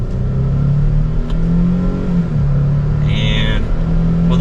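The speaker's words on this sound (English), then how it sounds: "we can give this a small acceleration with that V6 engine" V6 engine of a 2023 Nissan Frontier PRO 4X pulling through a mild acceleration, a steady mid-low drone that rises gently from inside the cabin, loud and continuous with a brief higher whine near the end.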